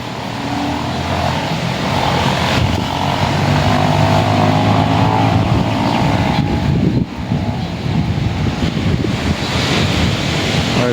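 Big sea waves roll in at Kuakata beach, a loud, continuous wash of surf with heavy wind buffeting the microphone throughout.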